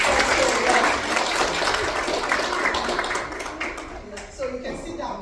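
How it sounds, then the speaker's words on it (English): Dance workshop participants applauding themselves after an exercise, a full burst of clapping that thins out and fades, with a voice speaking near the end. "clap for yourself"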